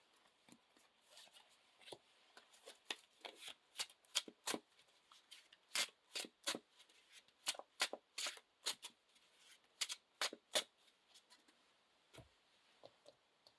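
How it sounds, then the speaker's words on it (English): Cards from a deck being shuffled during a Lord of the Rings card game: a long run of crisp riffling bursts and flicks, close and fairly loud, with no talking. "Then shuffle your deck."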